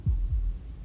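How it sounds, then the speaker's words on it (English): Two low, soft heartbeat thumps in quick succession open a short stretch of quiet hum in the game Slay the Princess, with no voices. "That was the sound of a heartbeat, followed by another."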